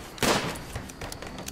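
Gunfire in the video game RimWorld: one loud sharp shot followed by a few quicker, fainter bursts of shots.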